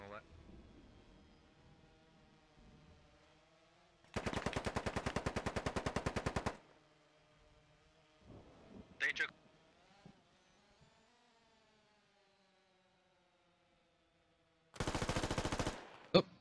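A-10 gun run strafing in the military shooter game Squad: two loud, long buzzing cannon bursts of about two seconds and one second, separated by quieter engine drone and brief sharper pops, with faint talk in between.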